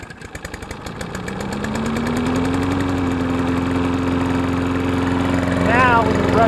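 A Toro Recycler 22-inch lawn mower engine runs after its camshaft was retimed, a steady loud small-engine drone that rises in pitch as it revs up, with a faint chirp near the end.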